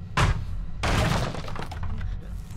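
A kick in a video game set in Hawkins smashes something, giving two sharp close impacts with breaking debris, the second followed by a rattling, crunching tail of scattered fragments.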